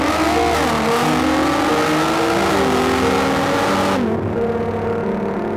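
A Nissan GT-R R35 engine pulls hard under acceleration, its loud, steady roar climbing in pitch for about four seconds before a sudden drop, likely a gear change, after which it keeps droning.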